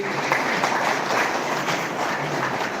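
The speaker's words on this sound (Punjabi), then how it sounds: "ਇੱਕ ਵਾਰ ਜ਼ੋਰਦਾਰ ਤਾੜੀਆਂ ਲਾ ਲਈਏ ਜੀ" Audience applauding at a Punjabi poetry gathering in Chandigarh, a steady dense wash of clapping from a crowd that holds at even loudness for several seconds with no talk over it.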